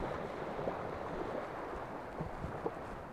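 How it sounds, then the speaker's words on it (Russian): Black Sea waves along the shore at Anapa–Vityazevo give a soft, continuous wash with occasional louder swells, mixed with some wind noise, and no one speaks. "Шум моря."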